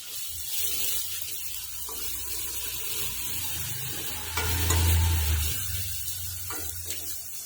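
Salt and chili being stirred into a sizzling tempering for ridge gourd sabzi, a continuous soft frying hiss with scraping of the spoon in the pan and a brief louder stir near the middle, no talking.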